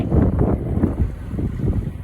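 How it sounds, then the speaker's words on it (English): Steady, rough wind buffeting a microphone outdoors, a loud low rumble gusting unevenly throughout with no voices. "as you can see, quite windy as well"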